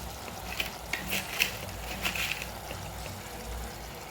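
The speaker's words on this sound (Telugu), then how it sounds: "చూడండి ఇప్పుడు ఉప్పు వేసుకుందాము" Coarse salt sprinkled by hand into a pan of liver curry, giving a few soft, brief granular patters and light taps spread over a few seconds, quiet and close.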